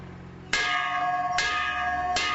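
A bell rings three times at a steady pace, each strike bright and ringing with a long sustained tone that carries into the next, over faint background noise.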